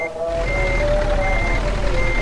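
A bus in Euro Truck Simulator 2 backs up slowly with a steady, loud repeating reversing beep over the low rumble of its idling engine.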